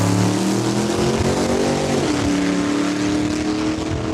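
A 1930 Roadster makes a single drag racing pass, its engine a loud, continuous roar that climbs in pitch as it revs and shifts, holding strong and near throughout.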